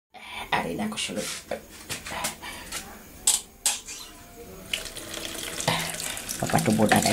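Water gushing from a tap, with splashing bursts and clatters, close and fairly loud, with brief background voices.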